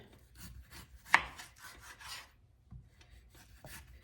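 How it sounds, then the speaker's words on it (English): A knife chopping unpeeled potatoes on a cutting board, a series of soft rasping cuts and dull taps at an irregular pace, close and quiet with no talking. "I'm going to chop 2 potatoes"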